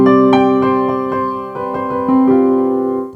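An electronic keyboard set to a lone piano voice plays a slow series of clear struck notes and chords, each sustaining and ringing close and fairly loud, with no talking.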